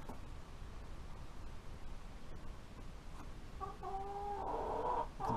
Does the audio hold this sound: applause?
no